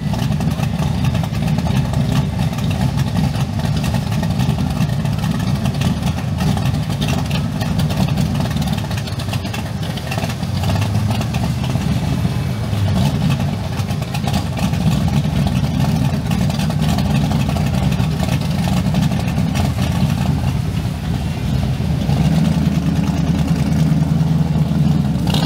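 Classic cars in motion at the Anoka Classic Car Show, with a steady, continuous engine rumble and road noise from passing vehicles throughout, fairly loud, as an outdoor crowd murmurs faintly in the background.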